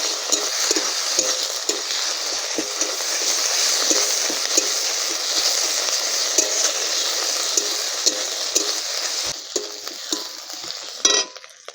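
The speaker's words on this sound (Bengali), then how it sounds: "আদা রসুন পেস্ট করা ছিল, দিয়ে দিচ্ছি। ভালো করে আমি ভেজে নেব।" Ginger garlic paste frying in a pan, a continuous bright sizzle with repeated stirring scrapes of a spatula, close and steady, easing off near the end with a few clinks.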